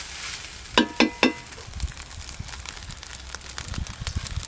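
Cooked rice and fried eggs being stir-fried together in a pan: a steady sizzle with the scrape and tap of a spatula stirring, opened by three sharp clicks, no voices.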